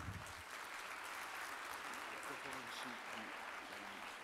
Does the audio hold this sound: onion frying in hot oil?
no